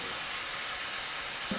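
Steady crackling sizzle of murukku frying in hot oil, continuous and close, with no talking.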